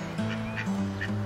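Ducks quacking and honking in a family garden, a few short nasal calls close by in quick succession.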